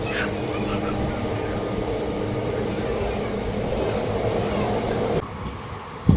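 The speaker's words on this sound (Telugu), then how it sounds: "ట్రైన్ మాత్రం మామూలు స్పీడ్ వెళ్తలేదు" The Pinakini Superfast Express train rumbles along at speed between Vijayawada and Chennai with a steady, heavy roar and rattling of wagons, shifting abruptly near the end.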